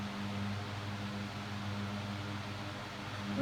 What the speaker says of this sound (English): That's my air conditioner in the living room.